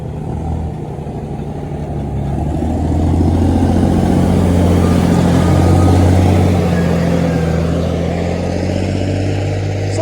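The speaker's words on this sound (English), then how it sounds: "let me allow this truck to pass" Truck passing on a road near land in Ibeju Lekki, a loud low engine drone that swells to a peak midway and slowly fades, close by with steady road rumble and no talking.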